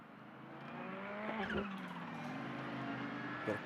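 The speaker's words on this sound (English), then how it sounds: "Get a great listen to that turbo spool on the Ferrari." Ferrari GT race car at Mugello during an endurance race, engine roaring with rising whine and tire squeal as it passes, moderately loud and continuous.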